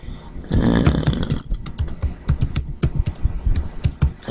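Rapid clicking of keys on a computer keyboard, close and irregular, with a brief low rumble near the start.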